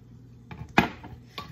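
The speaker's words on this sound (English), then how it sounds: "I'm just chopping in just some canned jalapenos" Jarred pickled jalapeños are chopped with a knife on a cutting board while pinto beans with sausage are prepared, giving a few sparse, sharp knocks, one louder than the rest.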